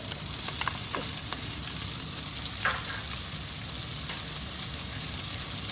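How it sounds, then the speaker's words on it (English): Onion and carrot frying in a pot for a beef, mushroom and Guinness pie hiss with a soft, steady sizzle, broken by a few scraping stirs, with no talking. "And give this a real good stir."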